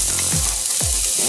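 An onion sizzles in hot oil in a pan on a barbecue grill, a loud, close, continuous crackling hiss with a couple of low thuds as it hits the pan and settles.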